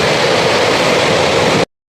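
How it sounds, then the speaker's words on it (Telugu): A large forest waterfall roars as a loud, steady rush of broadband noise that cuts off abruptly. "చాలా పెద్ద వాటర్ ఫాల్ అండి. ఇది అడవిలో ఉంది"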